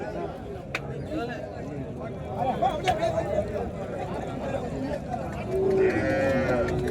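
Cattle at a busy livestock market in Madrapalli, Tamil Nadu, where a large cow stands with her calf; low moos and animal calls rise from the crowd amid constant background chatter and voices.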